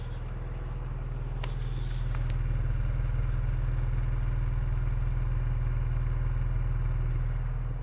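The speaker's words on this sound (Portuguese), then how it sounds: "partida frio, é normal ele ligar ali acima dos 1000" A Subaru car engine idles steadily right after a cold start, running fast above 1000 rpm with a close, even low rumble and faint clatter throughout, no voices.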